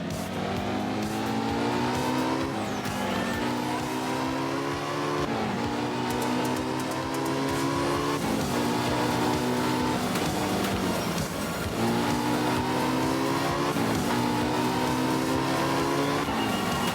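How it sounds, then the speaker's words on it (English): A Porsche is driven hard on a wet track, its engine revving up and down through repeated gear changes with faint tire hiss. The engine note is loud and steady throughout, with no talk. "I despise driving these kind of cars in these kind of weather conditions."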